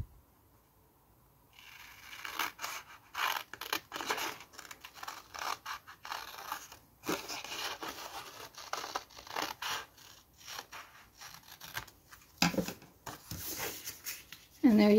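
Safety scissors snip repeatedly through paper in a close, steady series of crisp cuts, with a few brief pauses and rustles between.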